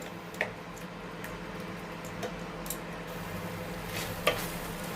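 Tomatoes simmering uncovered in a pan give a faint, steady low bubbling with a few soft clicks and taps of a spoon scattered throughout.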